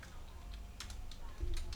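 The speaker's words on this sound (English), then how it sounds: "I'm typing the website on the chat box." Fingers tapping out a website address on a computer keyboard, a short run of soft, irregular clicks at close range over a faint background hum.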